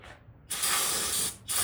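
An aerosol spray can fires short bursts, a sharp hiss lasting almost a second followed by a briefer second shot, close and loud in a garage working on a 49-year-old Ford Thunderbird.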